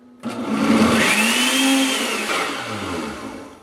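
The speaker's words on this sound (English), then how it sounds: "Now we're just going to go ahead and hit this blender" A blender whirs to life abruptly and runs at a loud, steady roar, its pitch wavering slightly as it churns, with no voices.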